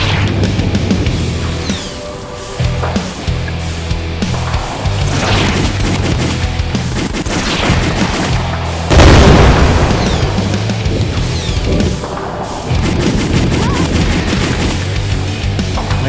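Demons shot at in the Save Our Souls PC game, with dense continuous gunfire, booms and explosions layered over a steady loud music-like bed throughout, with a heavier burst near the middle.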